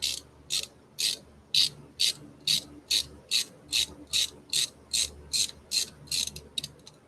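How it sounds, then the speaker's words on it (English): An Allen socket on a ratchet turns a disc brake bolt, clicking in a steady rhythm of about fifteen crisp, evenly spaced ratcheting bursts, loud and close, with no talk. "I'm going to grab my Allen socket again and my ratchet"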